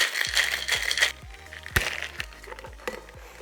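Ice rattling inside a cocktail shaker as a Cosmopolitan of vodka, Cointreau, cranberry and fresh lime juice is shaken, a run of rapid, rhythmic crunchy clatters, loud and close, easing off toward the end.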